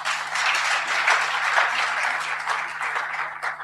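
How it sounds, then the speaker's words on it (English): A youth festival audience in Rustenburg, South Africa applauds the minister: a continuous dense wash of clapping from many hands, fairly even in loudness and lasting several seconds, with a faint steady electrical hum beneath and no speech. "I think our minister deserves a round of applause."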